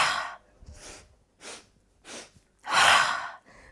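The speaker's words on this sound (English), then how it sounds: "We go three inhales and then an exhale." Breath of joy pranayama: three quick, audible nasal inhales in succession followed by a long, loud, rushing exhale through the mouth, with a short breath trailing after, close and without speech.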